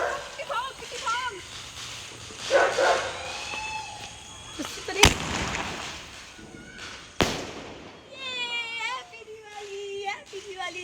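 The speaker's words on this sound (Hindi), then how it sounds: "ये लोगों का पटाखा है और ये मेरा पटाखा" Diwali firecrackers burst in two sharp, loud bangs a couple of seconds apart amid excited chatter and shouting voices, with thumps and crackling before and after.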